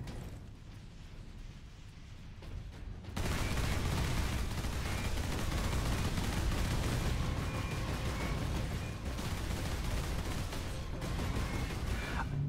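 Sentry guns in the Warhammer 40k Space Marine video game open up in a dense, continuous burst of gunfire after about three seconds of quieter game ambience, a loud sustained roar of shots and impacts.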